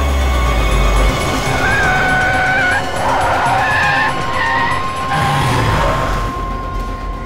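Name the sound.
car braking and skidding to a stop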